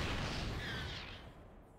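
Booming artillery shot from a Siege Tank in StarCraft II, a single heavy blast with a rumbling tail that fades out, loud and alone with no talk.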